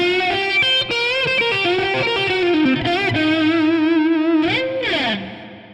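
Distorted electric guitar plays a legato lick from a solo: bright, sustained bent notes and quick slides ringing steadily and loudly on their own, with effects-unit coloring.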